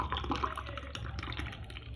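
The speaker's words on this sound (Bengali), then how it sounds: "শরবতগুলো ঢেলে ফেলি।" Homemade yellow sharbat drink pours into glasses, a steady liquid trickle and splash running continuously and close by.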